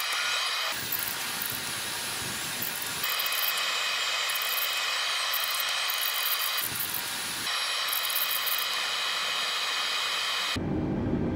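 Airbus A320neo jet engines taxi in Microsoft Flight Simulator 2020, a loud steady turbine whine with a high tonal hum that runs throughout, interrupted by repeated abrupt shifts in the low rumble and cut off sharply at the end.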